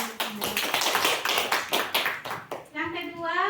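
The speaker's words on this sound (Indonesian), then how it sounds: "Tepuk tangan dulu." A group claps in rhythm during a school teachers' session, a quick run of sharp hand taps about a second and a half long, followed by voices talking.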